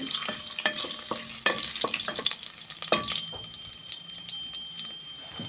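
Sliced ginger sizzles steadily in hot cooking oil in a pan, a bright crackling hiss near the listener, broken by sharp clacks of a utensil stirring and scraping.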